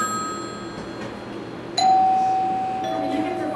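A telephone ringing indoors in a home, a steady electronic ring tone that starts partway through and holds, heard clearly over a quiet background.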